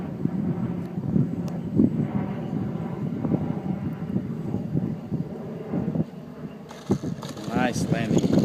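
A Parzone T-28D radio-controlled model airplane drones overhead at a distance, a steady engine hum mixed with wind buffeting the microphone while people talk nearby.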